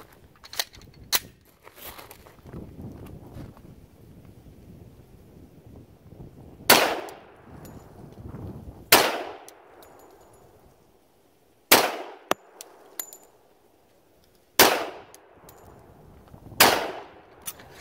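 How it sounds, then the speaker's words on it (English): Five pistol shots fired with American Eagle 230 grain ball ammunition at a target about 10 yards away, sharp loud cracks spaced a few seconds apart, following a stretch of quieter handling noise. "Just going to shoot 5 shots at a 1-inch dot that I have down there about 10 yards."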